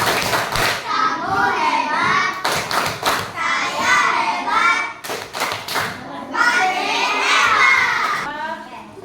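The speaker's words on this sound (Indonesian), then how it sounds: "kita sama-sama lagi kasih tepuk hebat untuk buat kelompok belajar estetik" Schoolchildren in a classroom perform a rhythmic 'tepuk hebat' clapping chant, with bursts of patterned claps and thumps mixed with their lively chanting voices, loud and near, in several energetic phrases.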